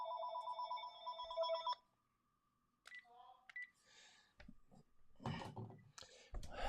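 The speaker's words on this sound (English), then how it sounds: "Let me just make this phone call go away." An incoming call rings on a phone in a steady repeating tone that stops abruptly, followed by quiet, a few soft beeps and clicks of handling, then muffled noise.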